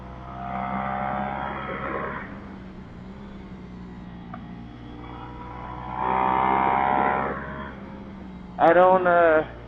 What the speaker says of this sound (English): The wind is phenomenal.